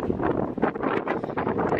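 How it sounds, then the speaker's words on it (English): Strong desert wind near windmills around Palm Springs buffets the microphone with a loud, continuous rumble and gusting roar throughout. "The only con to shooting here is how windy it is. It's very windy."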